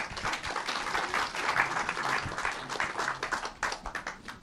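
Moderate, uneven clapping rises from an audience at a Pernod Ricard shareholder meeting, with individual claps standing out in a continuous spatter that swells and thins over a few seconds.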